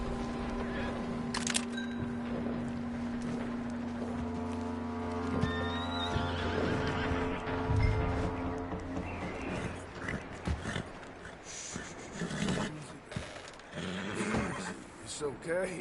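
A horse in Red Dead Redemption 2 neighs and whinnies amid clip-clopping hooves, harness jingles and other game ambience, with people talking over parts of it.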